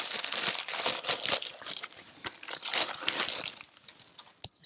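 Plastic packaging of a peeling callus device crinkles and crackles continuously as it is unwrapped, close and fairly loud, with short pauses between handling bursts.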